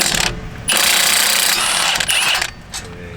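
A tool whirs in bursts while the caliper bracket screws come out of a Honda CR-Z front brake, loud and close, with two sustained mechanical runs separated by short pauses.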